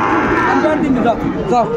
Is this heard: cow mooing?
yes